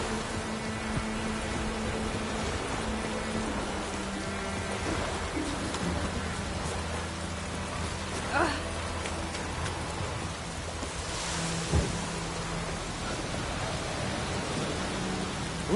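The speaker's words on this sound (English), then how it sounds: "Let it rain." Steady heavy rain falls in The Witcher 3: Wild Hunt, a dense even hiss with a couple of faint distant thunder rumbles, and no voices.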